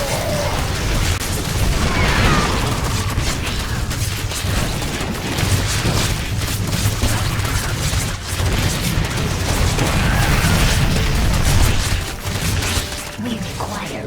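Dense gunfire and explosions from the StarCraft II Heart of the Swarm video game, a continuous loud barrage of rapid shots and booms with voices speaking over the battle.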